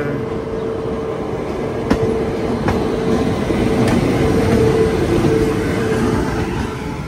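A train pulled by a WAP-7 electric locomotive approaches as a steady, loud rumble of wheels and rails with a low hum, and a few sharp clicks stand out from the continuous roar. No voices.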